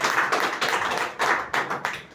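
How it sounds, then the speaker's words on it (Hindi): An audience at a health talk claps loudly, a short burst of dense, uneven hand claps with distinct sharp peaks, close and alone with no talking. "जिसके लिए जोरदार तालियां।"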